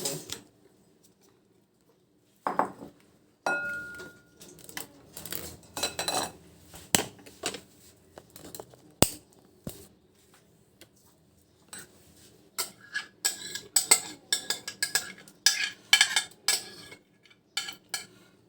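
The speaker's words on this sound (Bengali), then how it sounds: "বেলটা আমার সব চটকানো হয়ে গেছে এবারে এটা আমি একটু ছেঁকে নেব" Mashed bael fruit pulp being strained for sherbet, with close clinks, taps and scraping of a utensil against a metal strainer and bowl, sparse at first and then busier and quicker.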